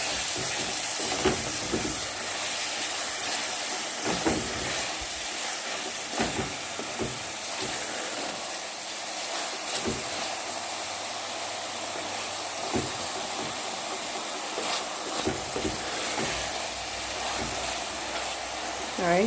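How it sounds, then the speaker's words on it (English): Onions and carrots sauté in a pan for a Jamaican ackee and saltfish dish, giving a steady, broad sizzling hiss with occasional stirring clatter, with soft background voice at times. "we're just going to let this saute until the onions become a little bit translucent and the carrots get a little bit softer"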